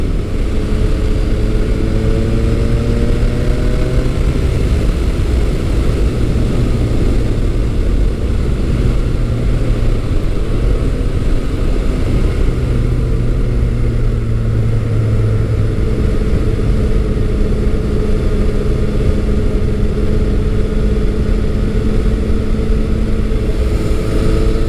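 A Yamaha FJ-09 motorcycle engine revs and pulls hard for a sustained stretch, with rising and falling tones as it accelerates, loud and continuous with no talking over it.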